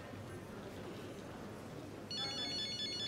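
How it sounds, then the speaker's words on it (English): A phone starts ringing partway through, an electronic ringtone of repeating bright beeps that comes in suddenly over a low, quiet room hum and keeps going to the end. "That's my phone."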